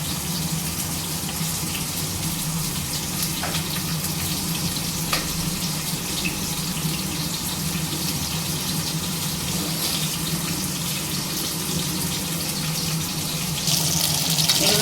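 Small onions sautéing in a pan for Tamil-style dal rice: a steady, even sizzle hisses without a break, with a couple of faint clicks and a slight swell at the end, and no talking.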